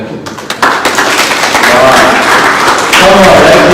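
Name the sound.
audience applause at a conference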